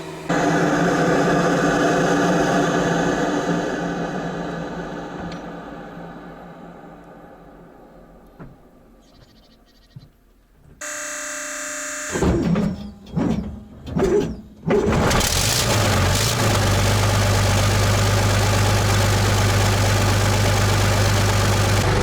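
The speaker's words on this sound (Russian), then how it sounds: "И я думаю, можно запускать двигатель." A Soviet artillery tractor's engine, running in freezing cold, winds down to near silence, then cranks in a few sputtering bursts before catching and settling into a steady, heavy idle.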